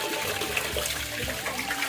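Steady water pouring from a cow-mouth spout at a hot spring sacred site, a close, continuous splashing rush with no talk.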